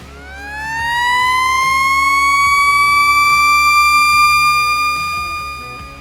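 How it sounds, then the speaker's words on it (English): A DP30 four-tone electronic siren sweeps up into a loud, steady wail with strong harmonics, holding at full volume before easing off near the end, with no voices. "the DP30 4-tone siren ensures each message is heard clearly and loudly."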